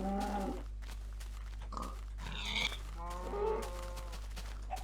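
A cow in the video game Minecraft lets out several low moos, separated by short pauses, with a steady background hum and no talking.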